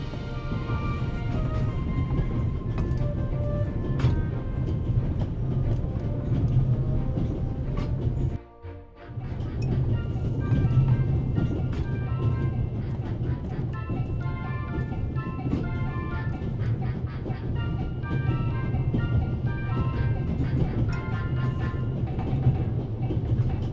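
Continuous rumble of a train riding along in The Raven Remastered video game, a steady low drone with faint rhythmic clatter and mechanical tones, briefly dropping out near the middle before resuming.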